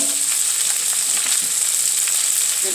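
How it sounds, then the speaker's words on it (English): Vegetables sauté in a hot pan with a steady, bright sizzle that holds evenly throughout, close and loud with faint stirring scrapes underneath. "So I'm going to saute all my vegetables together."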